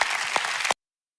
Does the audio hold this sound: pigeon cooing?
no